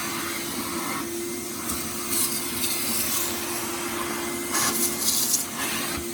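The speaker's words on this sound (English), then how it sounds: "I love this vacuum." A 1975 Sears Kenmore canister vacuum cleaner, model 116.25990, runs steadily with a constant whining hum, punctuated by brief hissing surges as the nozzle moves over surfaces.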